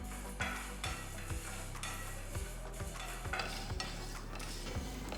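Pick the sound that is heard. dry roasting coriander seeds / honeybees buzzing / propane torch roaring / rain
dry roasting coriander seeds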